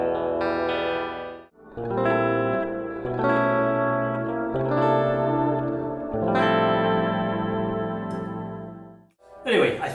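Electric guitar on a Sire X6 seven-string, played through effects with distortion and chorus, rings out in sustained chords and melodic lines with short pauses, loud and close, with no talking.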